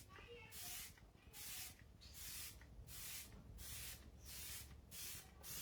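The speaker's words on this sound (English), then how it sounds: "It has a kind of a long-lasting mist" A spray bottle releases a fine, long-lasting mist in about seven evenly spaced hissing bursts, each lasting roughly half a second, close by and fairly soft.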